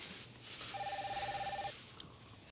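A telephone rings in the TV drama Better Call Saul, one steady electronic ring burst of about a second over a quiet room hum, heard faintly in the background.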